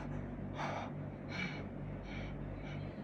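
Slow, deep breaths during a whole-body stretch, about four soft airy inhales and exhales spaced evenly, close to the microphone over a low steady hum.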